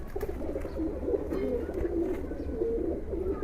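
A Giribaj pigeon coos in a loft, a close run of soft, low rolling calls repeating steadily over faint background noise.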